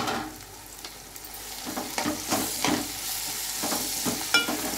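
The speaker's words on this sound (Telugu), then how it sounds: "అల్లం వెల్లుల్లి పేస్ట్ వేసేస్తున్నాను" Ginger garlic paste frying in a hot pan, giving a steady sizzle broken by scraping, stirring strokes and small splatters that come and go, close up and alone with no voices.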